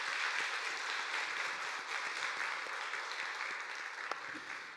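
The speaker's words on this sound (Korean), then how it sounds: "감사하다고 우리 한 박수 한번 할까요?" A church congregation applauds during a Sunday worship service, producing a continuous, fairly soft wash of clapping that tapers off slightly near the end.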